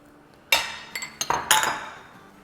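A spoon stirring cornstarch mixture into hot milk in a metal pot for sweet seviyan: five or six sharp, close metallic clinks in quick succession, each ringing briefly, with no speech.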